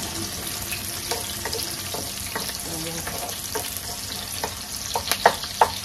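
Chopped chicken fries in a pan with a continuous crackling sizzle, with occasional stirring clinks and scrapes, some louder near the end.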